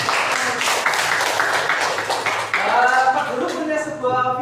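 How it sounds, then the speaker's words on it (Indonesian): Sixth-grade students in a classroom clap together for a few seconds in a quick, close burst of applause, and voices start talking as the clapping fades. "kasih tepuk tangan"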